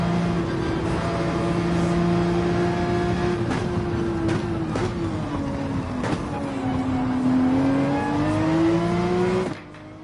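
Porsche 911 engine in Gran Turismo 7 powering out of corners during a race, a loud sustained engine drone rising and falling in pitch as it accelerates, with a couple of brief gear-shift breaks, then cutting off near the end.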